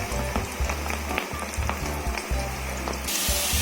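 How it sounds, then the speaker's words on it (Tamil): Cabbage pakoda batter dropped loosely into hot oil sizzles and crackles steadily up close, a dense frying hiss with small pops throughout, with no voices. "நம்ம முட்டைக்கோஸ் பக்கோடா போட்டுக்கலாம்."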